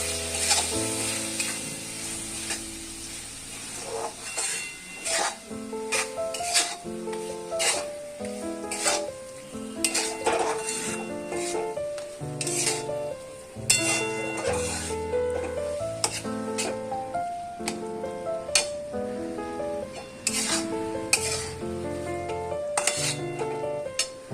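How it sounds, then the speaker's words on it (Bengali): Mutton frying with ginger garlic paste in a pan, with a continuous sizzle and repeated scraping and clinking of a spoon as it is stirred, close and steady over a long stretch, with music playing underneath. "এরপর 2 চামচ মতো আদা রসুন পেস্ট ওটাকে দেওয়া হবে, দিয়ে একটু কষাবো।"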